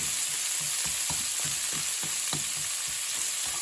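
Cabbage greens and sliced onions frying for yakisoba, a constant loud hiss of sizzling oil with soft, regular stirring scrapes and taps underneath, close up and without talk.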